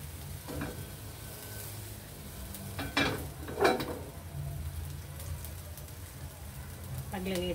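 Tahong being sautéed in a pan with a little oil gives a low, steady sizzle with a few clinks of utensil on pan, while a person talks quietly over it.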